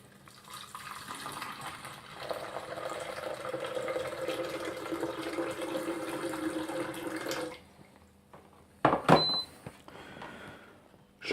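Hot water pours steadily into a blender jar for several seconds with a hollow, splashing rush, then stops, followed by a few knocks and clinks close by.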